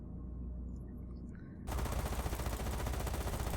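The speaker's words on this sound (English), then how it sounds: "Oh, he's doing strafing runs." An aircraft strafing run in the naval strategy game Carrier Command 2: after a quiet low hum, a sudden sustained burst of rapid machine-gun fire rattles on, loud and continuous.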